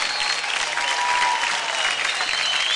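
A studio audience at the dance contest Dance India Dance applauds a dance performance, a dense, steady stretch of clapping that holds at even loudness throughout with no talk over it.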